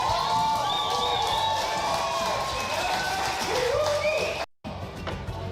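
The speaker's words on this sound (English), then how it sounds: "I'm going to go ahead and add some of the crowd cheering in here" Crowd cheering and applause mixed in as an effect, a busy wash of clapping and shouts with some whistles and voices, fairly steady before a sudden brief dropout near the end.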